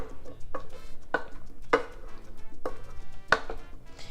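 A spoon stirs stewed beans seasoned with sazón in a pot, giving a series of distinct scraping knocks against the pot roughly every half second, close and clear with no talking.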